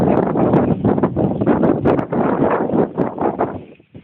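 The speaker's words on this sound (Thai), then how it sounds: "ระวังลม" Strong wind roars and buffets the microphone while riding down a bridge, a loud, continuous rushing noise that surges and dips unevenly and drops away briefly near the end.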